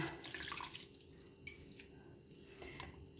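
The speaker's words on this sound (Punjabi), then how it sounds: "ਪਾਣੀ ਚੰਗੀ ਤਰ੍ਹਾਂ ਨਿਚੋੜ ਲਓ ਤਾਂ ਕਿ ਦਹੀਂ ਵਿੱਚ ਚੰਗੀ ਤਰ੍ਹਾਂ ਫਿਰ ਰਚ ਜਾਏਗਾ" Soaked dahi bhalla dumplings squeezed by hand, water dripping and trickling out of them in soft, irregular drops and splashes over a quiet kitchen background, with no voices.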